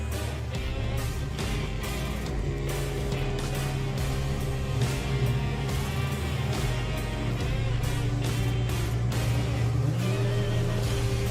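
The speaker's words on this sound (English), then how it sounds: "Nigel Gregg with the Blackneck Golf, and I believe that's, oh yeah, Michael Strachan with the Audi S3." A Golf and an Audi S3 drag racing at Santa Pod fill the air with a continuous engine drone and steady low hum, then a rising pitch near the end as one car accelerates.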